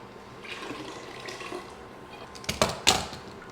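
Water splashes and gushes in two short bursts near the end as it is poured into a pot of chicken soup, preceded by quieter kitchen clatter and rustling.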